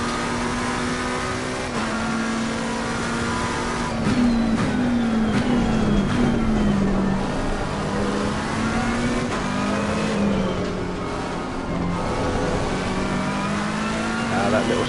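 A Mercedes race car in a racing game at Imola holds a loud, steady engine drone that rises and falls in pitch through gear changes, with a brief tire slide and some voice underneath.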